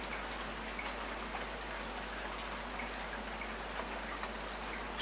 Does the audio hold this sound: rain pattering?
yes